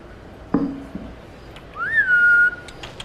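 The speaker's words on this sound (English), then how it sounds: "We actually have her trained where I whistle" A person gives a single clear rising whistle, held steady for about a second, to call a monitor lizard to feeding time, after a brief knock or thump nearby.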